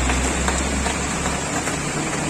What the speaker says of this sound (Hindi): देखो सुबह से इतनी बारिश, इतनी भयंकर बारिश